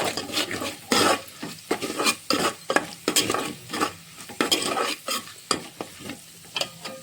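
Tomato rice with chili powder and garam masala is stirred in a pan, giving repeated scraping strokes of a spoon against metal over a soft background sizzle.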